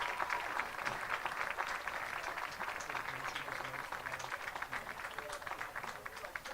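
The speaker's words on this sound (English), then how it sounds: "please join me in a round of applause for the class of" A crowd claps for a graduating class at a ceremony, a continuous rattle of many hands at moderate distance that holds steady throughout with no talk on top.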